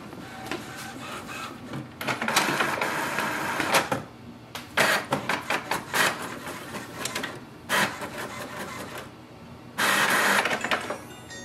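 An HP Envy printer printing a page gives several bursts of whirring, clattering paper-feed noise separated by quieter pauses, heard close and alone.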